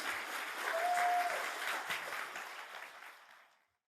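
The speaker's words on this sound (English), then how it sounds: "Guys, why don't you give Glynn a massive round of applause?" Live audience at a Salt Live talk gives a warm, full round of applause that swells quickly, holds for a couple of seconds, then tapers off and cuts to silence.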